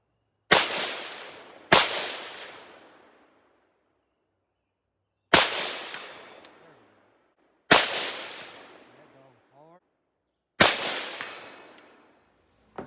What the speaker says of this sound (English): the biggest thing is it goes bang every single time I pull the trigger